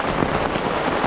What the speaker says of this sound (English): So the rain picked up a little bit.